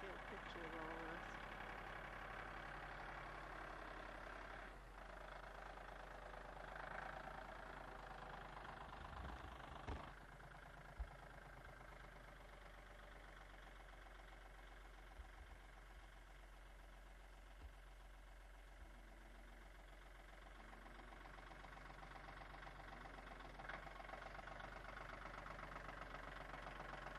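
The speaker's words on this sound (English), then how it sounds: "There's the tractor." A low, steady tractor engine hum idles throughout, faint and constant, with occasional clunks and a voice speaking briefly over it.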